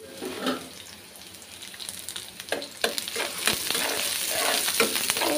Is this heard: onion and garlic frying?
yes